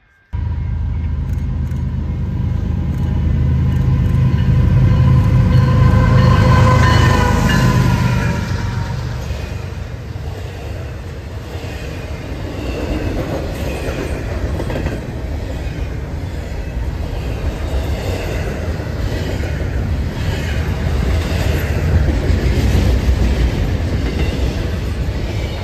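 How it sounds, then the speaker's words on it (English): CN freight train CNQ 199, led by one GE Evolution locomotive with another pushing, rolls past loud and close, an engine roar giving way to a long, steady rumble and rhythmic clatter of wheels over rail joints. "Our next train would be CNQ 199, Homewood, Illinois to Prince Rupert, British Columbia, with 1 GEVO in the lead and 1 pushing."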